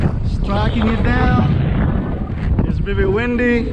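Hurricane-strength wind buffets the microphone with a loud, constant rumble while a person talks over it outdoors.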